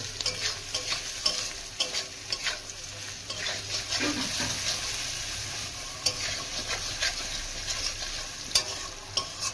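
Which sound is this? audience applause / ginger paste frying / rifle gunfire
ginger paste frying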